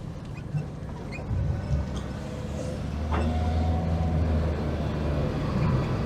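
A Nissan Micra with a CVT gearbox driving slowly into a town, a steady low engine drone with tyre and road rumble inside the cabin, a faint rising whine, and no talk.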